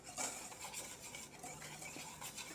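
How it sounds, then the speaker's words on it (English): Dry flour mixed with kosher salt is whisked in a bowl, giving soft, rapid scratchy swishes in a faint, continuous rhythm with no voices. "we're gonna whisk this up"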